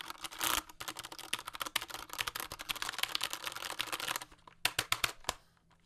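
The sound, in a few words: typing on keyboard with Cherry MX brown switches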